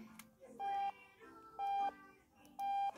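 An alarm clock beeps in the Octodad video game: three long, steady electronic tones at an even pace about a second apart, clear and fairly close over a faint game background.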